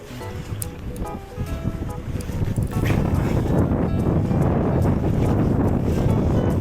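Strong wind buffets a boat out salmon fishing in winter, gusty rumbling that grows louder and rougher partway through, with muffled talk underneath.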